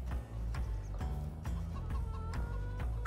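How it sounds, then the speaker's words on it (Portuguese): A flock of about a hundred free-roaming hens in Farming Simulator 22 clucks in short, repeated bursts, several birds overlapping close up over a low steady background hum. "Vou pôr as galinhas soltas aqui, né? Ah, é 100 galinhas."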